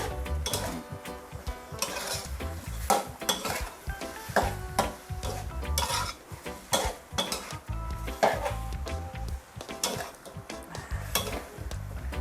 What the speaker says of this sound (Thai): น้ำปลาเราใส่ขอบขอบกระทะค่ะ